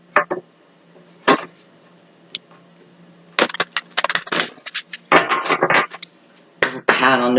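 Tarot cards being shuffled by hand, giving several separate bursts of riffling and slapping card noise, close and fairly crisp, with quiet gaps between the shuffles and no talk.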